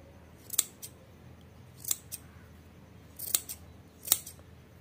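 Freshly sharpened, formerly rusty tailoring scissors cut through cloth, giving several crisp close snips that come mostly in pairs, separated by short quiet gaps, with no talking.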